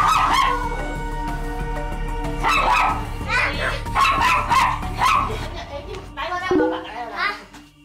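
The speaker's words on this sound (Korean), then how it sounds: "얼마 전부터 라이온에 대한 공격성이 심해졌다는데" Dog barking aggressively at another dog, repeated yipping barks mixed with children's voices and speech throughout, fairly loud and close.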